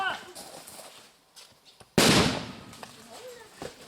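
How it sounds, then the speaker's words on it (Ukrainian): A training grenade goes off during a youth military exercise in Prikarpattia, Ukraine: one sudden loud bang partway through, followed by a decaying rumble, with voices shouting and talking faintly around it. "Граната! Граната!"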